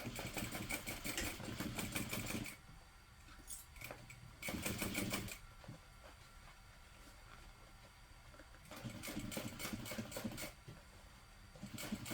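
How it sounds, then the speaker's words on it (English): A domestic sewing machine stitches a seam with a 1/2 inch allowance in quick, rattling bursts: a long run, a short one, then another long run, with quieter pauses between and a brief restart at the end. "And then we're just going to sew that together using a 1/2 inch seam allowance"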